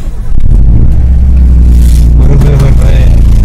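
A car engine running loud and close, revving with a steady low rumble, some clatter and rising bursts of throttle, with no voices.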